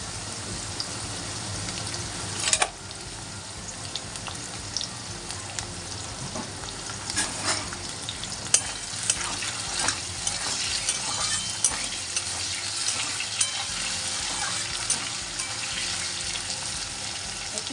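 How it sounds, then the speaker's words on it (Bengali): Potatoes lightly frying in a pan with salt while a Bengali fish curry is prepared: a steady close sizzle with scattered sharp crackles and spatters and a few louder stirring knocks, with no talking. "আলুটা হালকা করে ভেজে নেব আগে।"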